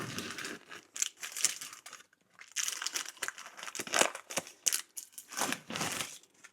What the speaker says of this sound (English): we're just taking off the paper